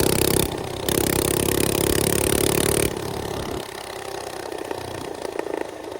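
A small mini bike engine runs loudly at close range and then drops to a quieter idle, with abrupt changes in its buzzing, clattering tone.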